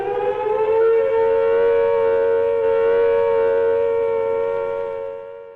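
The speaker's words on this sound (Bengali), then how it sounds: "ওয়াল ক্লিয়ার সাইরেন মানে সবকিছু ঠিক আছে বোঝানোর জন্য যে সাইরেন বাজানো হয়" A civil defense siren sounds a steady, unwavering tone held for several seconds, loud and close, tapering slightly at the end.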